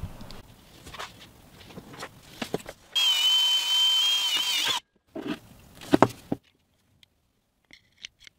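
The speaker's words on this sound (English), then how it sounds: "just have to remove the three screws on the bottom here and pull it right out" A power drill runs steadily for about two seconds, backing screws out of the bottom of a Razor Crazy Cart electric throttle pedal, with quieter handling clatter and taps before and after.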